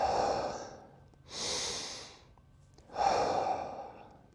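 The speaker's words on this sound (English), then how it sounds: "So in through the nose, out through the mouth. You want to breathe out" A person breathes slowly in through the nose and out through the mouth: three long, soft, airy breaths with gentle pauses between them, close and quiet, with no talking.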